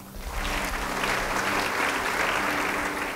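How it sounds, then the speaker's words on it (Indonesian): A church congregation breaks into steady applause, a dense even wash of clapping that holds for a few seconds with little talk over it. "Beri tepuk tangan."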